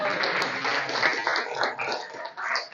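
Brief burst of classroom applause from a group of students, a dense patter of hand claps with little variation, close and fairly loud throughout.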